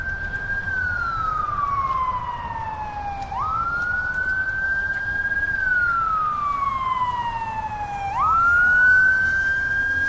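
A fire engine siren sweeps in long, slow up-and-down wails as the truck passes nearby on the road, loud and steady with no talking.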